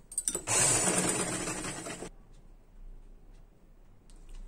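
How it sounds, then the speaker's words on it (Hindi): A sewing machine runs in one continuous burst, stitching around the edges of fabric for an A-line gown, loud and steady for about two seconds, then stops, leaving quiet room tone. "अब हम इसे सिलाई लगा लेंगे चारों तरफ।"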